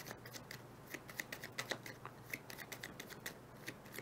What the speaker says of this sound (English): We'll shuffle these bad boys up.